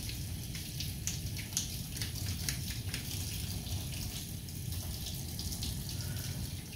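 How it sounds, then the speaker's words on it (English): Tap water runs steadily over hands being rinsed during a surgical hand scrub, a continuous close splashing stream with light drips, no voices. "Give my hands a rinse."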